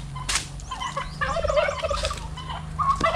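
A turkey nearby lets out a series of loud, warbling gobbles, rising and falling in quick bursts over a low steady hum.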